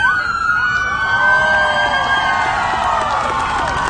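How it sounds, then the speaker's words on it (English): Police car sirens wail outside Baltimore City Hall during a rally. Loud, rising and falling tones sweep past over a cheering crowd. "Cop cars coming through."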